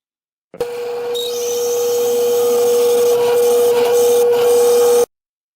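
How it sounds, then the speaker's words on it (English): A hole saw bores into a block of wood, a steady drill whine with a grinding cutting tone that holds for about four and a half seconds before stopping abruptly. "I'm cutting till it just passes through and the center of the bit passes through the bottom, but not the rest of the hole saw"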